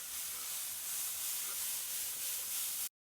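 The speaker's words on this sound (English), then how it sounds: "Let me give it a quick little spray." A quick spray of liquid onto smoked pasta shotgun shells on a BBQ smoker gives a steady, close hissing mist for about three seconds, then stops abruptly.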